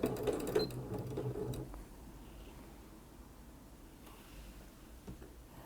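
A sewing machine stitches quilt binding toward a corner with a short, moderately loud run of rapid stitching in the first second and a half, then stops, leaving quiet room tone and faint handling sounds.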